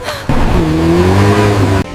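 A car revs hard and speeds away on a Baghdad street, a loud close engine surge with rising pitch over about a second and a half before cutting off abruptly.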